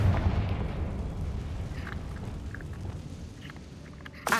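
A Confringo blasting spell goes off in Hogwarts Legacy as a deep, rumbling boom that decays into a long low roar, with a sharp burst near the end.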